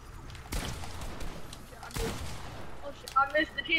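Two sharp bursts of rapid video-game gunfire crack out in a 1v1 match, one near the start and another a moment later, followed by softer game effects, with a player's voice talking over the action.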